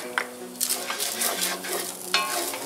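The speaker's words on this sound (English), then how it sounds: "I'm going to go ahead and add my garlic at this point, and I'm going to let that saute for a couple of minutes" Garlic sautés with drained ground beef in a pan for American goulash, a soft close sizzle under a few sharp stirring knocks and metallic scrapes of a utensil against the pan.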